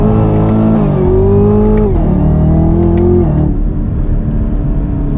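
A Chevrolet Camaro SS accelerates hard from low speed, its loud V8 note climbing through gears with brief tire spin, close and steady with no talk.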